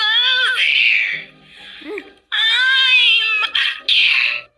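A cartoon cat gives loud, drawn-out meows in several bursts separated by brief pauses, with one short squeaky note between them, up close and with no other sound.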